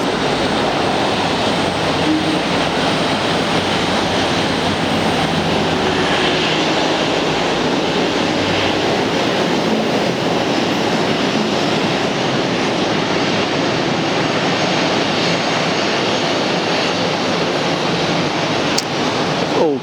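Airbus A330 jet at Atlanta airport, a steady broad engine roar and rumble holding at an even, fairly loud level throughout without voices.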